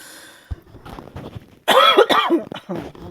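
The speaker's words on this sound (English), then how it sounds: "I guess I'm just going to be coughing through this whole thing." A few harsh, loud coughs from a nearby person after some quieter shuffling and soft sounds.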